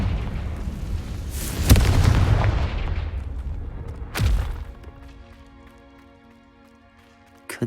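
In Hogwarts Legacy, a Confringo explosion spell lands with a booming blast, followed a few seconds later by a second sharp thump that trails into a ringing, fading tail.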